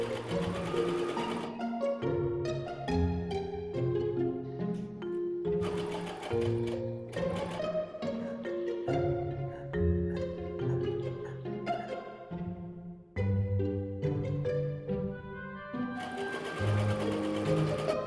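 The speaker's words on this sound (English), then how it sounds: "I also decided to edge stitch along the pocket opening like so." A sewing machine edge-stitches along the pocket opening of a shirt dress, its motor humming in several tonal runs with short pauses between them, close and clear throughout.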